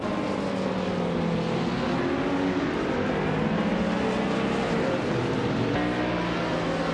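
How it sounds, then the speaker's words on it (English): A Radical RXC Turbo GT3 race car with turbocharged power racing on track, its engine droning loud and steady with shifting pitch as it accelerates, joined by other cars, no talking. "Amy is racing a Radical RXC Turbo GT3, known for its lightweight design and turbocharged power."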